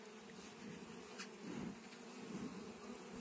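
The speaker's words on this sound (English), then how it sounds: "Bees are everywhere." Honeybees buzz steadily around an opened hive during an inspection of a new colony. The drone is continuous and low-level, with no voices over it.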